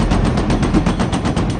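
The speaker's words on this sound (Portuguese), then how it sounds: "Soltei uma rajada longa de 34 tiros." A long, loud burst of machine gun fire aimed as a wall of fire, with rapid shots packed tightly together, dense and continuous for the whole stretch and no voices.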